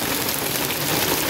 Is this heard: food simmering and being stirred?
no